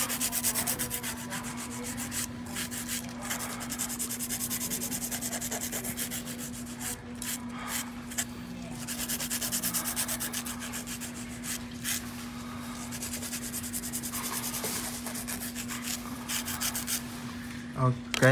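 Nail file rasping on an almond-shaped nail, steady close scratchy rubbing strokes repeating throughout at low level, with a constant electrical hum behind and soft talk at moments.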